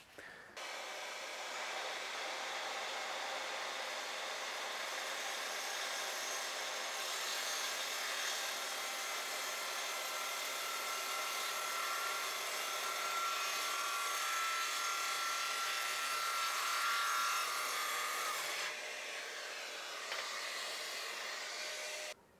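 Festool Kapex KSC 60 EB-Basic cordless radial miter saw spins up and slices through wood with a loud, sustained high whine lasting about twenty seconds before stopping abruptly; no talk.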